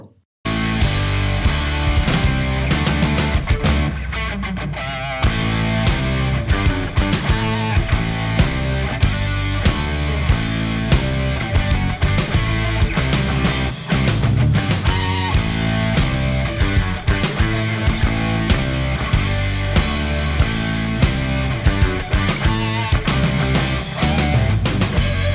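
A full mastered music mix with punchy kick and snare through a limiter with well-set look-ahead, playing loud and dense throughout after a brief quiet start.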